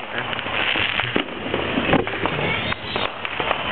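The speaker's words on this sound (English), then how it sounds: "Fireworks everywhere." Fourth of July fireworks in El Sereno at night, a dense continuous crackle of firecrackers and bursts with scattered louder pops, steady and fairly loud throughout, with faint voices in the background.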